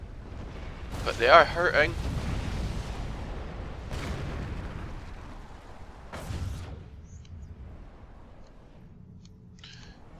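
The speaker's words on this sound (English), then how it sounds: "Bombing run." Deep booming blasts from a bombing run in the strategy game Supreme Commander 2, a loud burst early on followed by a few fainter rumbling impacts, heard beneath a voice talking quietly.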